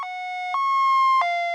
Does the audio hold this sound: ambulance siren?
yes